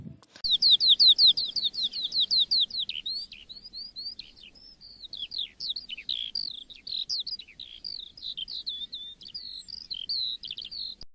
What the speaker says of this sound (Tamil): வானம்பாடி எழுப்புற ஒலிய நம்ம பாடுறதுன்னு சொல்லுவோம்.